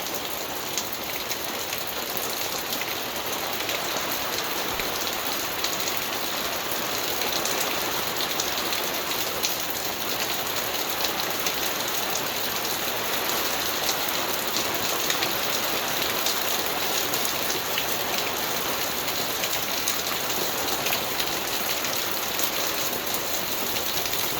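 Rain falls steadily outside, a dense even patter on surfaces close by that continues unbroken without any voices.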